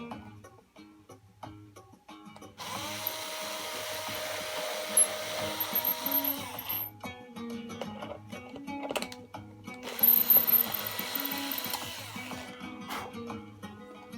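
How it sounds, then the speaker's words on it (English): A tiny drill whirs in two sustained bursts while boring small screw holes in the pickguard of a Squier Bronco bass guitar, close and fairly quiet, with workshop handling noises between the bursts. "So we'll get the teeny tiny drill"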